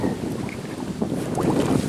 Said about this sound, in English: this wind is really blowing us in here in the shallows and the rocks